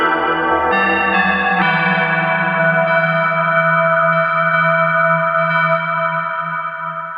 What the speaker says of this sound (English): in the 80s, everybody was a crackhead for bell tones,